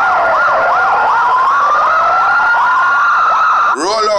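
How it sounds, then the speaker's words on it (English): A loud ambulance siren wails up and down close by, then switches to a faster yelping pattern at the very end. "Roll out the ambulance."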